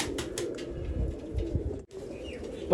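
Pigeons of the pure Babe Jante breed coo in low, soft, repeated calls, with a few higher chirps and brief wing flutters mixed in, close by and fairly quiet.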